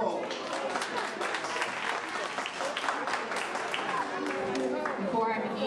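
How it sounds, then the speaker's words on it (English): An audience at a pre-Kwanzaa gathering in Alkebu-lan Village applauds the narrator with steady, dense clapping that carries on without a break, with some voices mixed into the crowd. "Give him a big round of applause."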